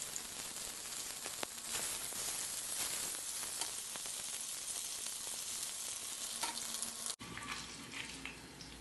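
Noodles tossed with soaked pepper and ground spices fry in hot oil with a loud, dense, continuous sizzle close by, broken by one brief dropout near the end; no voices.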